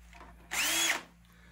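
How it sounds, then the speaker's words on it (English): A drill fitted with a flap disc sands and smooths wood on a DIY farmhouse table build, one loud, steady whirring burst of about half a second, close to the listener, with quiet room noise before and after. "I got one of these little flap discs that go on the drill here, and I'll just clean this up and smooth it out with it"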